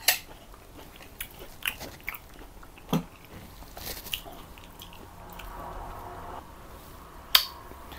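Someone eats cooked manathakkali (black nightshade) greens prepared with tomato, giving soft, sporadic chewing and biting clicks close to the mouth, with a few sharper snaps over a quiet background and no talk.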